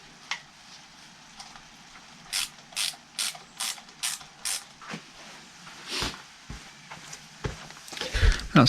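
A ratchet tightens the fittings of a Mikuni carburettor on an MZ TS125 motorcycle, giving about six crisp, evenly spaced clicking strokes up close, followed by scattered clanks and handling noise.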